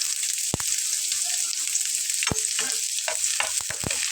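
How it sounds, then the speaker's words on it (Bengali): Chopped garlic and onion fry with cumin seeds in a pan while being stirred, giving a loud, steady sizzle broken by several sharp utensil scrapes and knocks. "সবগুলো একসঙ্গে একটু নেড়ে নিচ্ছি।"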